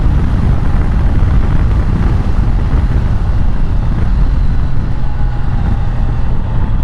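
A 2025 Triumph Tiger Sport 800 touring motorcycle ridden through a corner on back lanes, its engine drone steady and loud beneath heavy rushing wind across the microphone throughout.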